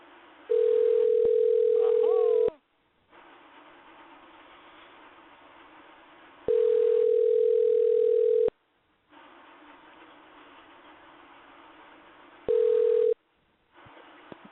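A steady telephone dial tone plays in three bursts, two long and one short, separated by stretches of soft line hiss, loud and close with no voices over it.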